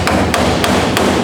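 Four sharp, evenly spaced hammer blows strike rusted car body sheet metal near spot welds during patch panel repair, each a loud metallic clang over a steady background hum.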